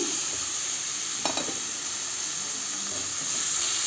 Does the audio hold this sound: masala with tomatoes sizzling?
yes